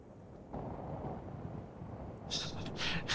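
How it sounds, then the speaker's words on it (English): Howling wind on Venus in the game Stationeers, a steady broadband rush that swells louder toward the end with gusty hissing bursts. "so windy"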